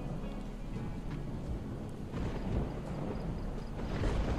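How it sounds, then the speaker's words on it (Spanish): A Project Zomboid thunderstorm outside a camper van: low, rolling thunder over a constant hiss of rain, swelling louder toward the end. "con una tormenta de esta afuera"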